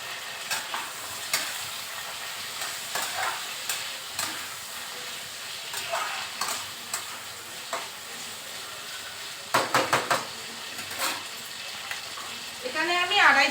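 Potato pieces fry in a pan of oil for a taro and shrimp curry, giving a steady low sizzle broken by scraping stirs and clinks of a utensil, with a louder burst of crackling near the end.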